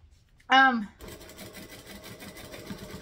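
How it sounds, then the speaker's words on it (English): A sewing machine runs in a short burst while top stitching piping with red thread, a brief loud whirring stitch run that stops abruptly, after which quiet room noise and a voice follow. "I'm going to flatten these out and then top stitch them"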